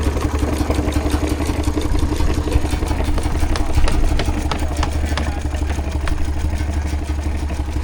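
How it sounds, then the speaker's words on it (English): A miniature Burrell steam engine runs at a tractor fair display at Biddenden, giving a steady, close, fairly loud mechanical chugging with a rapid clattering beat that holds even throughout, with no voices over it. "there's a miniature steam engine going off right now"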